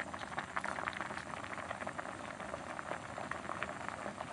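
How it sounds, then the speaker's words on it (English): Konnyaku boiling strongly in a pan, a dense continuous bubbling and popping, close and fairly quiet, with no talking. "keep it at a strong boil. We're going to reduce it until there's just a glaze on the konnyaku."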